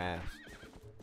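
A horse in the Zelda game Twilight Princess gives a short, bright whinny with a falling, quavering pitch, followed by a few soft hoof and snort sounds, close by and brief.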